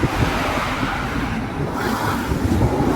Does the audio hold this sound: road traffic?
yes